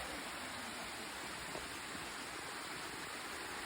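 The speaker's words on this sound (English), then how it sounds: "It's a nice small waterfall" A small waterfall feeds a lake at Plitvice Lakes in Croatia, heard as a faint, steady rush of falling water with no other sounds.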